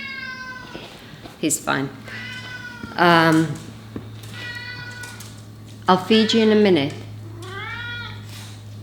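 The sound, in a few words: ginger cat meowing loudly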